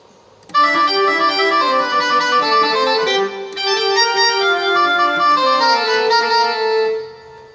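A synthesized tenor saxophone tone from a KORG keyboard plays a sustained, reedy melody of a few long held notes, then fades out.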